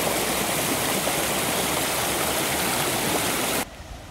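A waterfall near a jungle hostel in Thailand roars as a steady, loud broadband rush that cuts off abruptly near the end.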